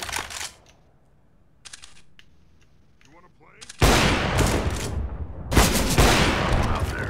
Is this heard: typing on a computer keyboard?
no